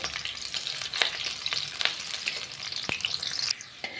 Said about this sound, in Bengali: প্রথমে আমরা পেঁয়াজগুলি ভেজে নেওয়ার জন্য কড়াইতে তেল দিয়ে দিচ্ছি।